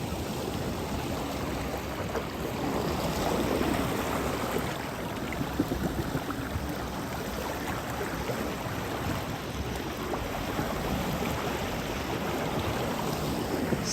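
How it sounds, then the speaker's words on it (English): Loud rushing floodwater after an extreme wind storm, a dense, unbroken roar like ocean surf crashing, close and steady throughout with no talking. "it almost sounds like the ocean waves crashing"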